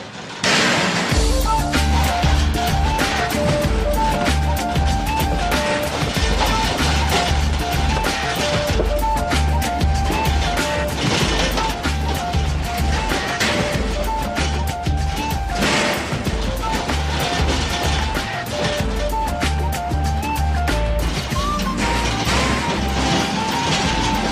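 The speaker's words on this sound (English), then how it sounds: "If they've come out of somewhere very close, they can go straight into our mincer" Carp are crushed in a mincer, a loud, dense, continuous grinding and crashing roar with heavy mechanical pounding that runs throughout.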